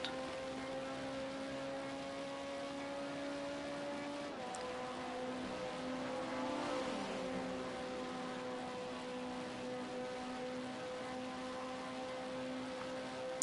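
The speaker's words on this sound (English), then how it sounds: "we'll get a nice clear noise of the engine" An LMP2 prototype race car in a sim racing game at Sakitto GP holds a steady onboard engine drone at full throttle, with one brief pitch dip like a gear change midway, fairly faint throughout.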